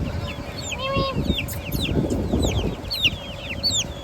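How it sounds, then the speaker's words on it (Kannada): Many chicks peep and chirp continuously, with soft clucks and shuffling underneath, close by and busy throughout; the chicks look like ducklings. "ಕ್ಯೂಟಾಗಿದೆ ನೋಡಿ, ಬಾತ್ಕೋಳಿ ಥರ ಕಾಣುತ್ತಾ ಇದೆ, ಇದೆಲ್ಲ ಕೋಳಿ ಪಿಳ್ಳೆಗಳು"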